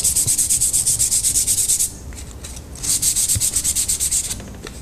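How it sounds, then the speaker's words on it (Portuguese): Fine finishing sandpaper rubs lightly over a surface in quick, even back-and-forth strokes, a loud close rasping rhythm that pauses briefly midway and then resumes. "Aí você vem com a lixa novamente e agora já é a lixa do acabamento"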